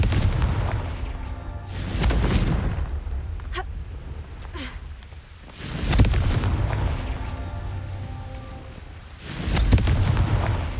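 Confringo fire spell explosions in the Hogwarts Legacy video game: several deep booming blasts that come at intervals of a few seconds, each one loud and rumbling, with a couple of brief whooshes in between.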